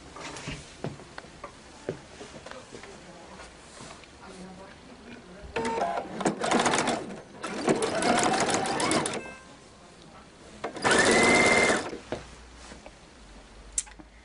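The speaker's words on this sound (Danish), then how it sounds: "vi tager her og lægger stoffet ret mod ret og syr ærme sidesøm." A sewing machine stitches the side seam of a jacket sleeve in two-sided fabric, running in three separate bursts of steady whirring, each a few seconds long, with quieter handling noises between them.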